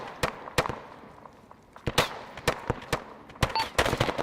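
Scattered gunfire from a firefight in the military shooter game Arma 3, with sharp, irregular shots and short bursts, some nearer and louder, others distant and faint, over a low ambient rumble.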